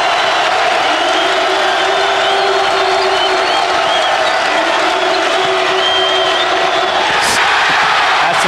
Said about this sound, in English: Panther crowd getting into the game.